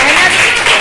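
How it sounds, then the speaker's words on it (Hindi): Short, loud spell of clapping from a class of children applauding classmates' calligraphy work at a school Hindi Day event, a dense wash of hands with faint voices mixed in. "तालियां भी होनी चाहिए साथ में।"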